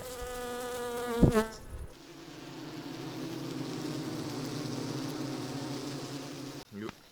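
Bees buzz around a beehive at an apiary, a close droning hum that swells and fades as insects fly past, with a brief louder buzz near the start and a voice heard faintly early on.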